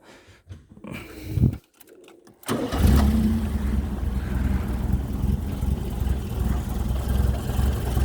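A 1985 Ford Fiesta XR2 out of gear cranks briefly and fires, then settles into a steady low idle rumble close to the microphone, with a few faint knocks before the start.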